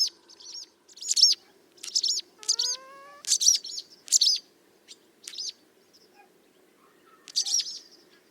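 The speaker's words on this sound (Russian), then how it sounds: "Его издают ласточки, когда видят хищника, который держится достаточно далеко." Swallows give a series of short, sharp chirps and tweets in bursts, with a brief rising whistle in the middle, a warning call at a predator held well off. The calls are fairly close and clear against quiet background hiss.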